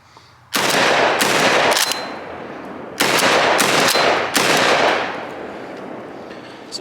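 A JTS AK-style 12 gauge shotgun fires loud, rapid strings of shots in two long bursts separated by a brief pause, with no talking.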